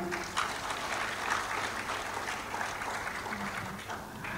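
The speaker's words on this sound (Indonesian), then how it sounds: "mari kita sambut dengan tepuk tangan" An audience at a graduation ceremony claps steadily for a graduate standing to be welcomed, a continuous, moderately distant round of applause with no speech over it.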